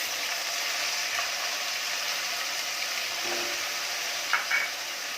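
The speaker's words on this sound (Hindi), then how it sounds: "और प्याज को लगातार कड़छी चला के भूनेंगे।" Steady broadband sizzle of onion paste frying in a pan, constant and close, with a couple of faint scraping clicks of a ladle near the end.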